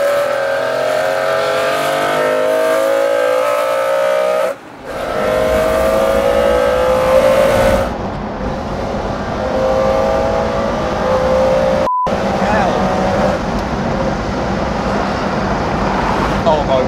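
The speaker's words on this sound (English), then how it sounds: "Let's just take that through the gears again" A high-performance British sports car revs hard up through its gears, each loud rising engine howl cut by a brief gap at the shift, while a voice talks over parts of the run.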